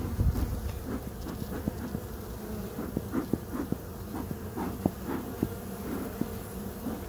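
Honey bees buzz steadily around an open beehive, an agitated, aggressive colony, with sharp individual wingbeat passes flicking close by over a constant dense hum.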